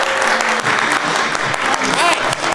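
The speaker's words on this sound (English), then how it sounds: "Let's send them out with some applause" An improv comedy audience claps in a dense, loud burst of applause that continues throughout, with a voice speaking over it.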